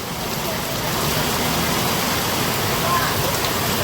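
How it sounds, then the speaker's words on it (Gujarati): Heavy rain pouring down in a steady, loud broadband wash with no letup, the downpour filling the scene throughout. "વરસાદ જો ભાઈ પડે એટલી વારમાં તો બહુ વરસાદ આવી ગયો"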